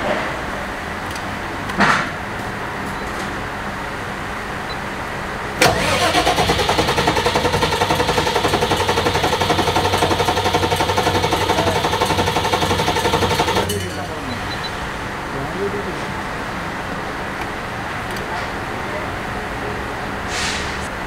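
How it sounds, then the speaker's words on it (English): A generator engine at a synchronizing setup starts with a sudden loud burst and runs as a steady rattling mechanical roar for about eight seconds before cutting off, with quieter background hum and a brief clunk before and after. "we're going to start this generator and adjust the voltage and check everything"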